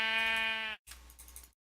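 A sheep bleats in the Minecraft mod Terrafirmacraft: one loud, close, drawn-out nasal call lasting most of a second, followed by a softer, rougher trailing bleat. No one talks.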